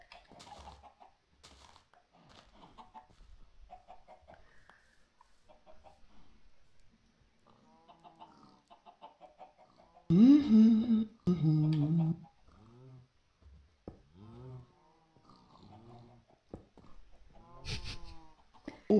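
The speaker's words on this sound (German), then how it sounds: "Oh, diese Hühner gehen mir auf den Puffer." Chickens cluck and squawk in the Minecraft video game, a string of short, rhythmic calls that keeps recurring, one louder burst standing out midway, with someone talking between and over them.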